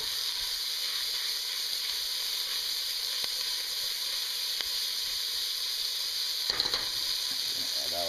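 Onions frying in a pan for homemade tomato sauce, giving a steady, soft hiss and sizzle with a few faint clicks and stirring sounds, quiet and continuous, no talking.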